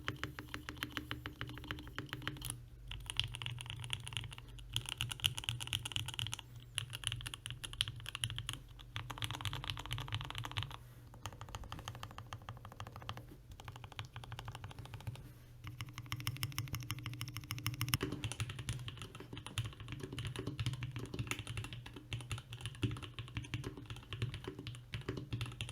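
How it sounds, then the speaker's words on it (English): Continuous rapid typing on a LEGO-built mechanical keyboard with soft-feeling switches, a steady patter of keystrokes with occasional louder clusters and brief pauses, close and alone without talk. "I'm gonna talk more about the typing experience after this sound test."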